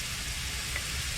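Lard and butter sizzle steadily in a pan aboard a narrowboat while bubble and squeak is made, a constant bright crackling hiss close up with no voices.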